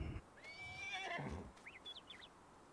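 A horse in the farming video game Landwirtschafts-Simulator 19 lets out a short, shrill whinny that wavers and fades, followed by a few faint chirps, all quiet and alone.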